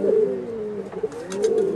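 A pigeon coos steadily and close up in a low, throaty rolling call that carries on without a break for about two seconds, with faint chirps behind it near the end.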